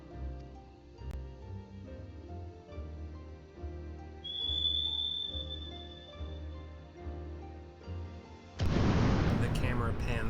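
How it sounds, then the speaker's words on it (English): A character in Final Fantasy XIV whistles to call a flying mount: one short, clear rising whistle midway over steady game music, followed by a sudden loud rushing burst near the end. "The camera pans up as she whistles"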